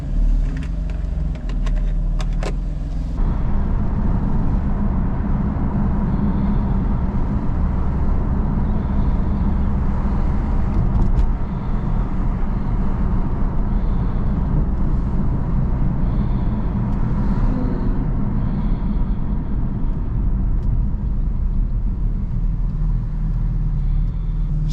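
A BMW M4 on the road, heard from inside the cabin: a steady, loud low rumble of engine and tyres, with a few clicks at the start and no talking.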